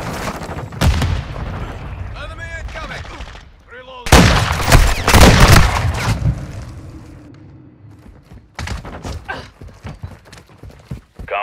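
A grenade blast and heavy gunfire in Call of Duty: Modern Warfare II, with a loud broadband explosion around the middle of the stretch. Sharp shots and rumbling booms come before and after it, with game voices calling out underneath.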